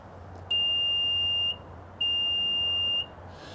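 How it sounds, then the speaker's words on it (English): Two long, even electronic beeps from a 2025 Nissan Murano Platinum tailgate confirming a height reset, each lasting about a second with a short gap between, clear and close over quiet background. "To change that and reset it, you just hold down the button right here and you listen for the beeps."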